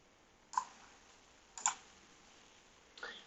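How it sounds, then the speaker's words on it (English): Computer mouse clicked three times at a slow, uneven pace, each click sharp, close and fairly quiet against a faint background hiss. "And I do this by right-clicking on my mouse."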